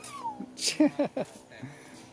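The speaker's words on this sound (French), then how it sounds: "il y a un chat qui a fait ses petits chats à l'intérieur" A cat that has just had kittens meows several times in short, close calls, some rising and drawn out, while a person speaks quietly nearby in a Thai setting.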